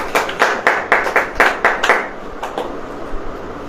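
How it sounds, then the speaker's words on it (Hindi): A church congregation claps during a sermon, about eight sharp, rhythmic claps close together, then a looser, fading patter of scattered hand claps. "ताली आली बजेगी कि नहीं?"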